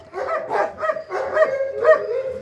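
A young dog barks in a quick series of five or six loud, close yips and bow-wows with short gaps between them.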